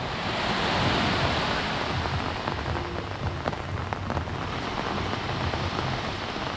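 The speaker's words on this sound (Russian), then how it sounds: "вода вот так выбегает в море" Broad, continuous rushing of muddy runoff along an embankment into the sea, a steady roaring wash, loud and unbroken with no voices.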